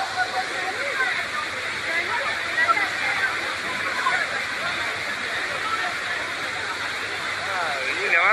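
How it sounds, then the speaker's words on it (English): A powerful current rushes above a waterfall in a mountainous area in a steady, loud roar of churning water, with voices and crowd noise mixed faintly beneath. "crossing a powerful water current above a waterfall"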